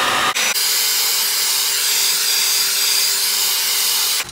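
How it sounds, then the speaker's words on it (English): A hair blow dryer on its highest heat setting blows with a steady loud whooshing hum, switching on just after the start and cutting off at the end, close and alone. "I'm just gonna use my blow dryer and I'm gonna put it on the highest heat setting"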